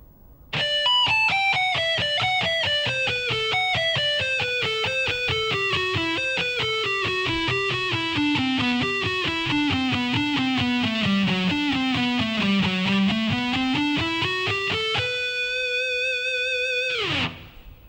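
A distorted electric guitar plays a shred sequence slowly, a steady run of fast picked notes descending and then climbing back up, ending on a held, sustained note that cuts off abruptly.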